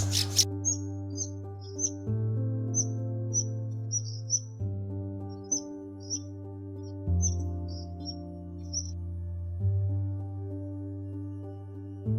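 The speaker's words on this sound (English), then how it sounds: "The streaked laughing thrush doesn't just survive the mountains, it sings them into motion." Short bursts of bright chirping streaked laughing thrush song come and go over a steady, low droning musical backdrop.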